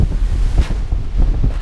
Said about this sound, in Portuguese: Tá ventando muito.